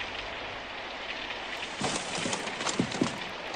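Steady rain pours during a storm, a constant hiss with a few heavier thuds and splashes toward the end, played at a moderate level as a radio-drama sound effect.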